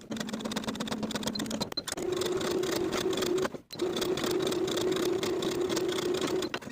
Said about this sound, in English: I'll sew each of my shoulder seams and each of the side seams with a 1/2 inch seam allowance using a narrow zigzag